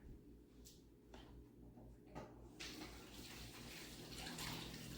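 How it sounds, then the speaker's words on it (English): A kitchen tap runs while hands are washed under it before cooking, with faint clatter at first, then the water's rush swelling and staying steady, quiet and nearby. "I'm actually going to wash my hands"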